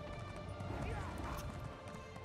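Horse hooves clip-clop in Elder Scrolls Online as a mount sets off toward a forge, a steady trotting rhythm under continuous game ambience, with a voice talking over it.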